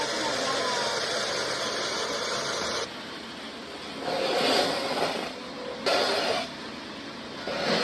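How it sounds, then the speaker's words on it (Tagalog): A machine sorting damaged corn kernels runs with a steady, dense mechanical hiss and whir that shifts in level several times over the clip. "Itong mga mais ay sinalang dito sa makina para ihiwalay yung mga butil na sirana."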